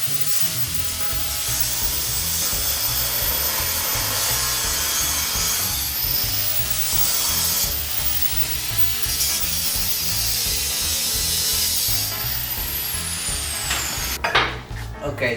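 A saw cuts through a thick piece of wood in a workshop, making loud, continuous rhythmic rasping strokes that run steadily from start to finish, with a clatter near the end.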